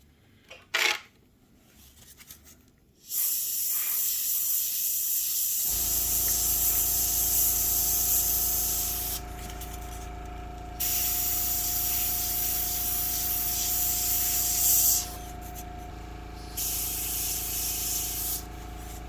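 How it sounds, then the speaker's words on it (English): Steady hissing spray from an airbrush painting a Tiger I scale model tank runs in long bursts with short pauses between, loud and close, over a low constant hum of a compressor. "I'll spray a little bit of paint."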